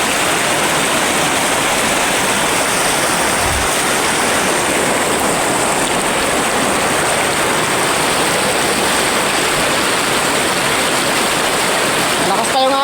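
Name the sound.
strong river current flowing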